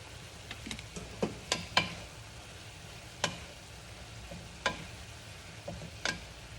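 Meat sauce is stirred in a sizzling pan, with a low steady frying hiss beneath sharp intermittent scrapes and clicks of the utensil against the pan, close and fairly quiet.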